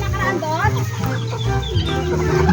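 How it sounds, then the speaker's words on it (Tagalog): Chickens cluck and squawk in a busy overlapping chorus, with ducks and other barnyard fowl calls mixed in, steady and fairly close throughout. "ang dami nilang pato at saka manok guys"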